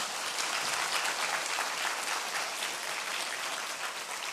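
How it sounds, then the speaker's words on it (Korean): A congregation at a Sunday church service breaks into continuous applause of thanks, a thick, even wash of many hands clapping at once that holds steady throughout with no talking. "감사와 영광의 박수 보내겠습니다"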